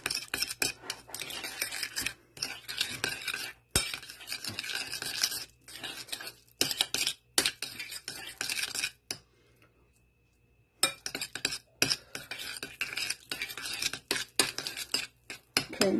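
A spoon scrapes and clinks steadily around a bowl as vanilla extract is stirred into a mixture, with brisk close-up utensil knocks and a short pause partway through.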